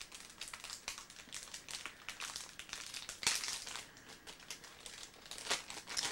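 Wrapping paper crinkled and crumpled by hand while gifts are unwrapped, with close, uneven bursts of rustling and sharper crackles throughout, and no talking.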